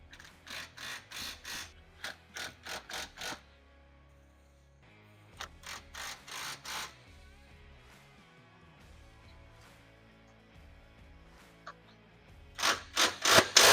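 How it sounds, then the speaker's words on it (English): Ratchet tightening and torquing bolts on a Clayton Off Road resonator skid plate under a Jeep JL: bursts of quick ratcheting clicks in short runs with pauses, close and fairly loud, ending in a louder burst. "tighten all the bolts, and then torque them down"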